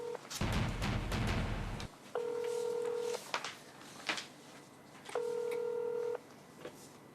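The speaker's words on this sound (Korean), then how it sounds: "전화를 하자는 얘기죠." Telephone keypad tones during a call placed on a Korean radio-style talk show, two separate one-second dialing beeps with a burst of static-like noise before them and scattered clicks between, moderately loud with no speech.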